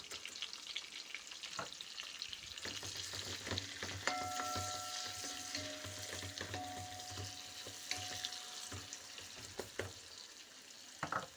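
A large batch of onion fries in a pot of oil for duck pilaf, giving a soft, continuous sizzle with occasional stirring scrapes and light clinks, fairly faint and without voices.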